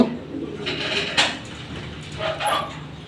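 Military silver pigeons kept in pairs coo in low, throaty calls close by, with a couple of brighter rustling bursts and some background noise.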